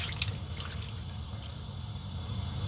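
Water trickles and drips while an oil paint brush is rinsed off after soap, a short steady splashing under a faucet with no voices.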